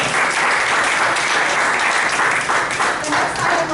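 A meeting audience breaks into a round of applause, dense and steady clapping that fills the room at close range for the whole stretch, with no talking over it.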